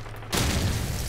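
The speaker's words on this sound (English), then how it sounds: "Tossing stun grenade! That's a stun." A stun grenade goes off in Call of Duty 4 on the Pipeline map: after a brief quiet, a sudden loud, broadband blast hits and stays harsh and roaring until the clip ends.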